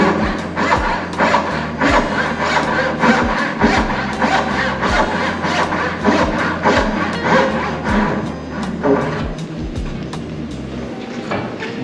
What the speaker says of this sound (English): So I like to cut my pins out first and then cut my miter.